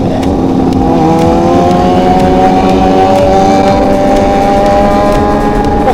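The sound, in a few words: motorcycle exhaust revving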